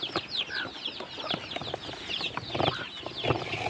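Hens with their chicks cluck softly and continuously nearby, mixed with high peeping calls from the chicks and occasional louder hen notes.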